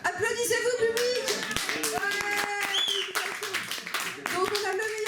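A festival audience at a comics forum claps in scattered, uneven bursts while people talk over it.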